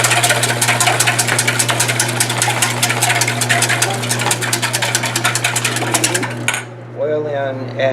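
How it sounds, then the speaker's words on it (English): Ingredients are whisked in a bowl during a Sattvik cooking class, making a fast, steady clatter of strokes close by for several seconds before stopping abruptly, after which a voice speaks. "We'll whisk this up before"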